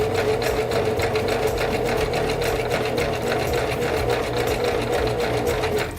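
A sewing machine stitches a fabric bread bag close to a fold, running steadily and evenly with a rapid mechanical chatter the whole time, close and clear.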